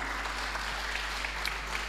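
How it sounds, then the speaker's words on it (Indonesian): Church congregation applauding in worship, a steady wash of many hands clapping at a distance, fairly faint, over a low hum. "Beri tepuk tangan bagi Tuhan."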